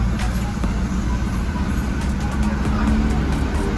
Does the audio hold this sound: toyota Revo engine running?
yes